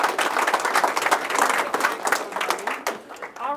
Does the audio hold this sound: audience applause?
yes